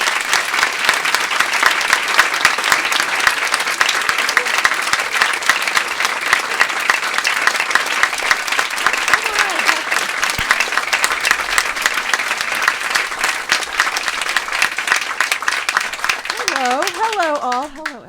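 Warm, sustained audience applause at Politics and Prose bookstore welcoming author Louise Erdrich, a dense, steady roomful of clapping that fades near the end as a voice begins speaking.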